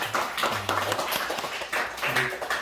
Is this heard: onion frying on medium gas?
no